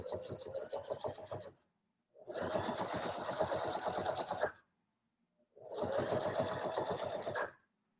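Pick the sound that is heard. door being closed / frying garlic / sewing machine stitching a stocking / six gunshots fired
sewing machine stitching a stocking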